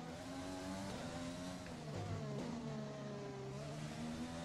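Formula 1 race car engine in the F1 2020 video game, a steady high-pitched whine rising and falling through gear changes, continuous and fairly loud with no voices over it.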